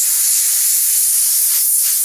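Compressed air from a compressor nozzle blasting debris out of a crack in a concrete floor, a loud, continuous close-up hiss holding steady from start to finish.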